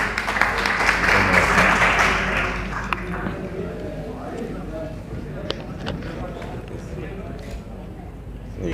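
An audience at a public meeting applauds to welcome a speaker; a dense burst of clapping fills the first few seconds, then thins into scattered claps over crowd murmur and voices.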